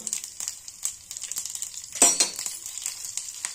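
Mustard seeds, curry leaves and dry chillies frying in hot oil for a North Karnataka pundi palya, a soft close crackling sizzle with scattered pops and one brief louder burst midway.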